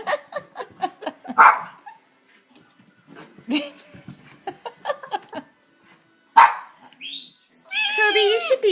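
Dogs bark in short, sharp bursts, several barks in quick runs with pauses between, fairly close. It ends in higher yips and whining.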